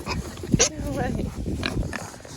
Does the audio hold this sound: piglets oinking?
yes